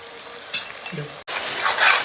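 Ginger and garlic paste go into hot oil with onion and tomato and sizzle in a pan, a steady close frying hiss with a brief stirring clatter partway through.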